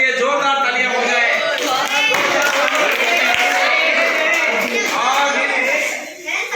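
A classroom group at a school quiz event applauds loudly, a steady wash of many hands clapping together, with voices mixed in throughout.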